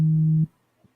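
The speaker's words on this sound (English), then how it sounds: "It's a phone call." A phone ringing with a steady electronic tone, loud and close, sounding for about half a second and then cutting off, followed by a faint short blip.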